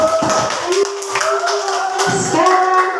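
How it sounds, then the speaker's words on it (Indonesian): A classroom of students claps together to applaud a student group after their presentation, a steady patter of many hands close by, with a teacher's voice talking over the clapping. "Tepuk tangan dulu kelompok"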